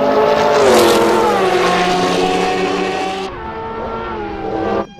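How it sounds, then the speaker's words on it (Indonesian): A yellow race car numbered 96 gives a loud, close engine roar that sweeps down in pitch with a skidding screech, then fades to a lower drone before cutting off. "Wah, wah, wah, ada mobil balap nih."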